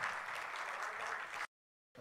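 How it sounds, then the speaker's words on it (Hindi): An audience at an international mushaira in Doha, Qatar applauds, a dense, steady crowd clapping for about a second and a half before cutting off abruptly and briefly resuming. "तालियां बजाएं एक मरतबा जोरदार"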